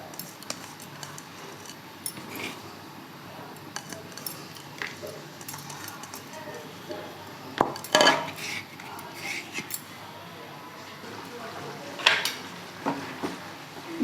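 Chicken korma being stirred in a metal pot, with intermittent scraping and clinking of a spoon against the pot. A few sharp metallic knocks stand out over low cooking noise.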